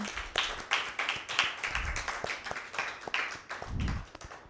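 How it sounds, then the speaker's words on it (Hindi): Loud, steady clapping from a group at a children's Father's Day quiz show, honoring a girl who answered correctly, with dense rapid claps filling the whole stretch and no talking. "सवेरा के लिए ज़ोरदार ताली"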